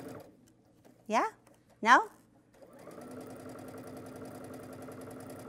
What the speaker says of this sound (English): Just going to do a quarter of an inch seam.